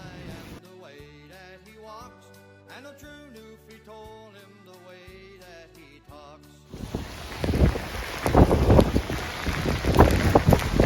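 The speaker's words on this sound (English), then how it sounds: "a little bit of rain out there today" Rain falling outside during outdoor work, a dense broadband patter that comes in after several seconds of music and then builds steadily louder and rougher, with gusty bursts toward the end.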